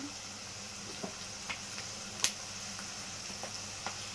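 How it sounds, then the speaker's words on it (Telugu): Onion pieces sizzle in hot oil in a pan as ginger-garlic paste is added for a chicken and egg gravy, a steady low hiss broken by a few sharp ticks and one bright spatter, with no talking. "ఉల్లిపాయ ముక్కలు ఇలా వేగుతున్నప్పుడు అల్లం వెల్లుల్లిపాయ పేస్ట్ వేస్తున్నాను."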